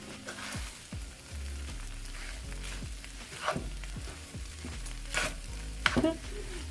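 Jamaican-style fried rice with shrimp, beef and sausage being stirred in a sizzling pan, a steady frying hiss beneath repeated spoon scrapes and a couple of louder clanks near the end, close up.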